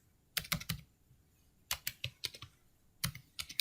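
Fingers tap on a computer keyboard in three short bursts of quick keystrokes separated by pauses, close and fairly quiet, with no voices.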